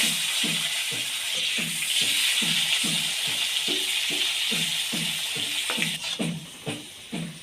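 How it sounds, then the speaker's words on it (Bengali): Cut potatoes frying in hot oil for an eggplant, potato and drumstick fish curry give off a steady, loud sizzle, with a regular beat of soft thumps throughout as they are stirred or turned. "এবার ওই তেলের মধ্যে কেটে রাখা আলুগুলো ভেজে নেব"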